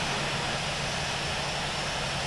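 Steady airliner engine hum while taxiing to the runway in the Infinite Flight simulator at Kotoka International, a constant broadband drone with no breaks, loud and even throughout.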